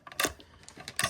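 Plastic dice rattle and clack across a tabletop during a Star Wars Legion miniatures game, with a quick burst of sharp, close clicks as they tumble and settle.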